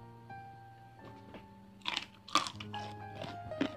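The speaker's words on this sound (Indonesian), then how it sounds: "Renyah banget kacangnya." Crunchy raw long beans eaten with shallot sambal, a few close, crisp bites followed by wet chewing crunches over a faint steady background hum.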